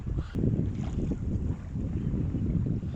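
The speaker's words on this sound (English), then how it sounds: "we're carrying full Genoa, but I'm just letting it sort of find its own form at the moment and just sailing to it" A sailboat runs under a full genoa with only steady, low rushing wind and water noise, heavy with buffeting on the microphone. No other distinct sounds stand out.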